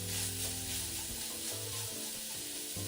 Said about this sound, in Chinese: 这时候就可以将油炸后豆干加入，拌炒一会就可以开始调味了